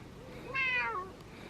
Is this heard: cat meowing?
yes